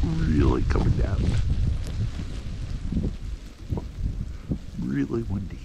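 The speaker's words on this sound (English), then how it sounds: "Really windy." Strong wind in a snowstorm with sleet buffets the microphone as a loud, continuous roar, while a person talks over it throughout.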